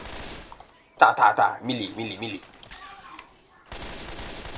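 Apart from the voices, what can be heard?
gunfire from a gun in the video game Left 4 Dead 2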